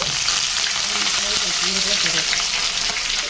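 Green chillies sizzling and frying steadily in hot oil in a pan for a potato fry, with a continuous loud crackle and occasional stirring, no voices.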